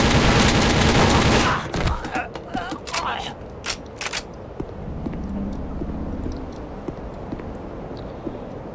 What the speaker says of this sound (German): Er schießt doch Granaten.